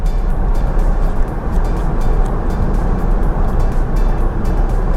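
A Tesla accelerating on FSD beta during a drive home, heard from inside as a steady, loud low road and motor rumble with faint ticking on top and no talk.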